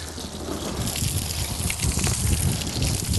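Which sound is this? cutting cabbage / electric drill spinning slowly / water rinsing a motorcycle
water rinsing a motorcycle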